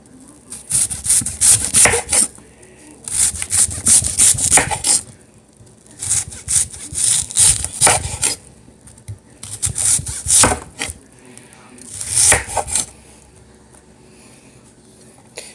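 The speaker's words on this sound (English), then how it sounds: "I cut a little chunk off this side so that way it's a little bit easier to set when you're cutting the rest of the onion" A knife cuts through an onion on a wooden cutting board in five bursts of rapid, scraping strokes separated by short pauses. It is close and fairly loud, with no talking.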